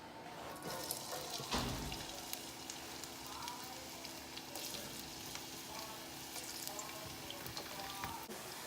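Chopped onions frying in a hot pan for curry shrimp, a steady close sizzle running throughout with occasional stirring scrapes and clinks, no voices.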